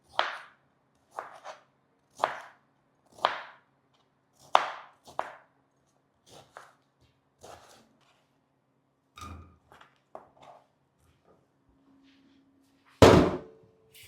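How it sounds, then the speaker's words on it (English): A knife chops beetroot into small pieces on a cutting board, with about a dozen sharp, separate thunks spaced roughly a second apart and then a final louder knock, close and clear. "I'm going to cut them into tiny pieces and then boil it"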